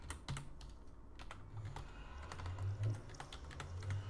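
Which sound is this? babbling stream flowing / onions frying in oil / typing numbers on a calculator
typing numbers on a calculator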